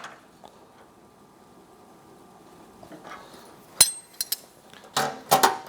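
A lock nut being tightened on a ProArmor door for a Polaris RZR 900XP in a workshop, heard as a few sharp metallic clinks and taps that follow a long near-silent stretch.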